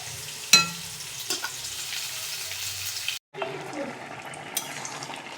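Banana stem and pumpkin curry in a pan with water, a soft bubbling sizzle with a sharp clank at the start, a brief silence, then quieter stirring and simmering.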